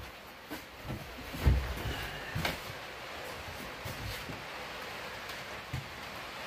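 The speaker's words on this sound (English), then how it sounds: "As you can hear, the rain is coming down pretty good on the roof." Steady rain drumming on a roof, a dense broadband hiss with scattered louder drops and a few soft knocks, no voices.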